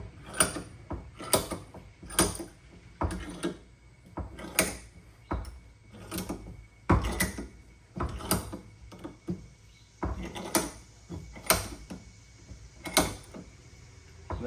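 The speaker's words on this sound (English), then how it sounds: "bring it over here to the vise, squeeze her in there." A bench vise is cranked tight on a part in a shop, giving a series of sharp metallic clicks and clunks in an uneven rhythm, close and fairly loud, with no voices.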